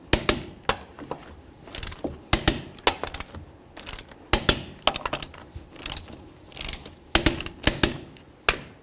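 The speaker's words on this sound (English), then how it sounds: "All right, let's torque these to 100." Lug nuts on the front wheel of a 1994–2004 Chevy S-10 pickup being torqued to 100 foot-pounds, heard as a series of sharp metallic clicks and ratcheting snaps in irregular bursts, close and clear with no talking.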